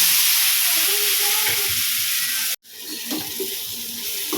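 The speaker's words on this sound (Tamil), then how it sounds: "கொஞ்சம் வெந்ததுக்கப்புறம் இதில் நம்ம மிக்ஸ் பண்ணி பரட்டி எடுத்துக்கலாம்" Cauliflower frying and being stirred in a pan for a Tamil-style gravy, a continuous hiss of sizzling with scraping spoon strokes, briefly cut off before the sizzle resumes.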